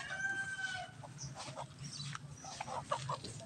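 Caged chickens cluck and a rooster crows at feeding time on a farm with ducks and turkeys, with scattered clucks and calls at moderate distance, no talk.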